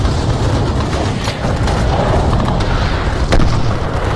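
Battle gunfire and booming blasts from a Kargil war 1999 film scene in snowy mountains, a dense, loud, continuous barrage with sharp cracks near the end and no clear talk.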